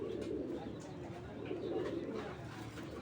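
A racing pigeon coos softly and steadily, close by, with a low murmuring rhythm that carries through the whole stretch alongside faint background noise.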